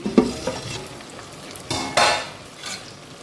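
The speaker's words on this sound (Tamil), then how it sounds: "கத்திரிக்காயெலாம் எண்ணெயில் வேகணும்" Eggplant pieces fry in oil for a Tamil dried-fish and field-bean curry, a close sizzle broken by scraping stirs and spoon clinks against the pan.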